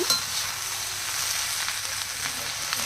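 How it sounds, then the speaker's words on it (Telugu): Grated coconut frying in a pan with a steady, close sizzle and faint scraping from stirring, fairly quiet and continuous, with no voices. "కొబ్బరి పచ్చివాసన పోయేంత వరకు వేగించాలి"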